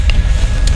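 Rough, low rumbling buffets of wind hit the microphone in a short, loud burst.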